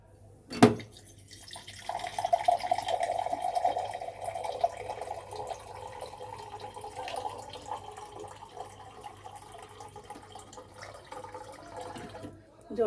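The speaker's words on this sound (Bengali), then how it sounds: "তাই আমি আর একটু জল দেবো।" Water poured into a cooking pot around a tiffin box set inside it, a steady close pouring and trickling sound that runs for several seconds after a brief knock, with a low hum underneath.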